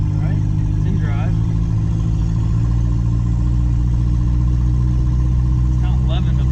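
A miniature turbo Hemi car engine drones at a steady, loud, even pitch, while people talk over it now and then.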